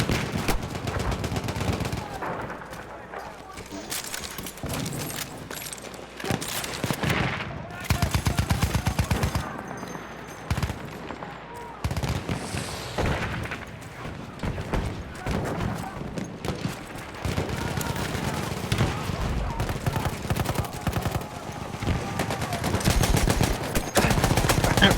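Rapid gunfire from a pistol and other weapons in the video game Battlefield 1, with repeated cracking shots and bursts running loud and dense across a chaotic battlefield, a voice faintly present at times.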